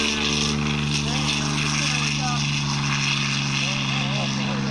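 P-40 warbird fighter plane flying at an air show, its piston engine giving a loud, steady, droning roar with a low propeller hum that holds throughout.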